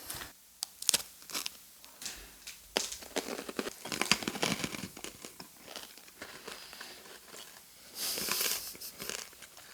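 Someone bites and chews a Cadbury Crunchie bar, milk chocolate over crisp honeycomb, giving close crinkly crunches and crackles in irregular bursts, with a louder stretch of crunching near the end.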